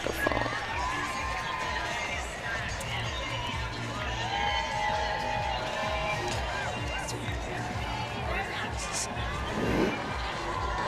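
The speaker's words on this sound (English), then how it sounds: "Listen to all those cheers." A crowd lining a Pride parade route cheers and whoops, a broad sustained roar with sharper shouts and whistles rising out of it at moments, fairly close, with voices mixed through the din.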